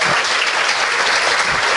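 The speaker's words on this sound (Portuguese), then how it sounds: "Queria pedir também aqui uma salva de palmas" An audience at a benefit class event claps in dense, steady applause, loud and continuous throughout the short moment.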